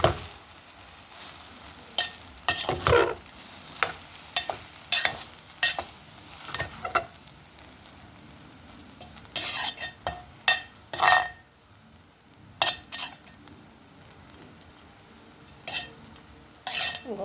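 Foxtail millet upma gets stirred in a pan with a spoon, giving repeated scraping and clinking strokes at an uneven rhythm over a soft background, close and fairly quiet, with no talking.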